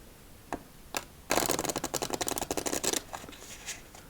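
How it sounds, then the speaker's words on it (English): A few single card flicks, then a quick riffle shuffle rattles for about two seconds, followed by a couple of soft taps. "Alright, victory shuffle time."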